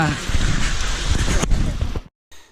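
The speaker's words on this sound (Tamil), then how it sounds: "மழை விடுற மாதிரி தெரியல. வெயிட் பண்ணோம், கொஞ்சமாச்சு ஸ்லோ ஆச்சுன்னா வீட்டுக்கு கிளம்பிடலான்னுட்டு." Heavy rain pours steadily on a pigeon farm, a dense close hiss with some wind, and cuts off abruptly near the end.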